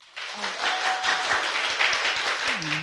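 Studio audience applauding a guest, a physician and lawmaker, on a live TV current-affairs talk show; dense, sustained clapping fills the whole stretch at steady loudness, with brief tonal studio sounds underneath.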